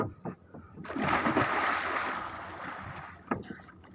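A person dives into open water, making a splash that swells into a broad rushing wash lasting about two seconds, followed by a brief sharp slap and lighter splashing nearby.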